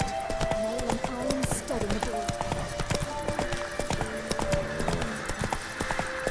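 Roach, the horse in The Witcher 3, gallops with rapid rhythmic hoofbeats at moderate level, accompanied by a steady game music tone and someone talking over it.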